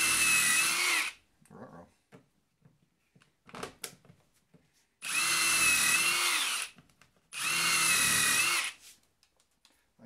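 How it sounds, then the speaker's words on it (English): A power drill drives a screw into a wooden bending form used for bent lamination, in three loud, close bursts separated by short pauses, with a brief spoken exclamation between them. "I'm going to put a screw in here."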